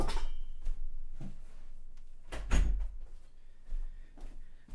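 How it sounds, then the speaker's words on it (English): An office door swings and shuts with a couple of soft thuds and a firmer closing knock, close by in a quiet room. "always like to close my office door"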